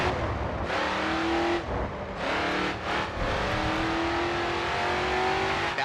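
Race car engine in the Grid 2 racing game, revving loudly and continuously with several gear-shift dips and rising pitch sweeps as it accelerates, close and dominant.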